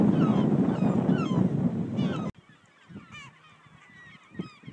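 Seabirds calling at a nesting colony on a predator-free coastal island, several honking goose-like cries over steady surf noise, then sparser, clearer calls in quieter air.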